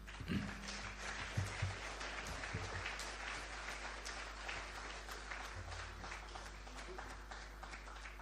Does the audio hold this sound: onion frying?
no